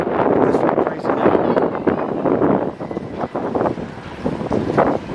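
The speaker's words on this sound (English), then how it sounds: "It's very breezy now." Breezy wind rushes and gusts outdoors near a village, a broad, fluttering roar that swells and dips in uneven surges across the moment.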